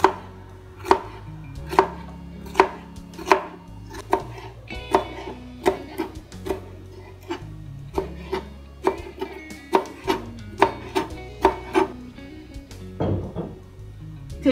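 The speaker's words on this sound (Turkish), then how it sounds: "Biberimizi de yemeklik doğruyoruz." A knife chops peppers on a cutting board for cooking, with a steady series of close, sharp thuds at a relaxed, even pace.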